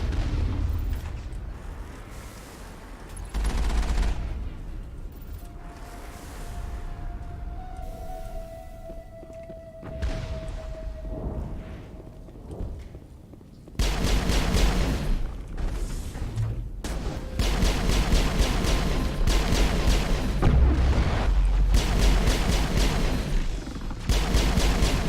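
Rockets and gunfire in the Mass Effect video game during the Citadel mission: a wailing tone and scattered blasts at first, then a loud, dense stretch of rapid shots and explosions rattling on without pause.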